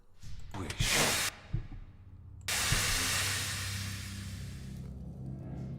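A boiling spray trap in Pillars of Eternity bursts out with a loud steamy hiss that cuts off abruptly, then a second long, steady gush of hissing spray follows and slowly fades.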